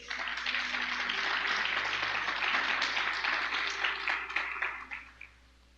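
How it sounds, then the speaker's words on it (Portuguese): A congregation applauds during a church worship service, steady dense clapping filling the room before thinning out and fading near the end. "Dá uma salva de palmas ao Senhor"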